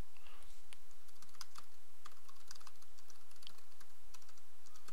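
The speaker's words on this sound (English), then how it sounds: "Man, I can type well today." Rapid typing on a computer keyboard during an online card game, a quick close run of light clicking keystrokes, fairly faint, with no talking.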